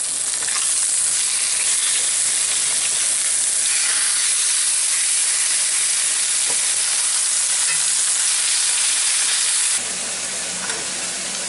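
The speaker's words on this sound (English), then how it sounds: "While my pork chops are frying up," Pork chops fry in a hot pan with a loud, steady sizzle and hiss, continuous and close, dropping a little in intensity near the end as the pan settles.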